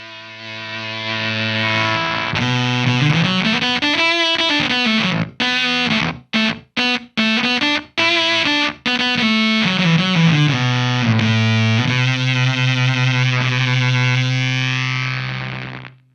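Electric guitar through an NRG Effects Mauler gated fuzz pedal plays a loud, saturated distorted line with sliding notes, sharp gated choppy cuts in the middle, and a sustained buzzing tail.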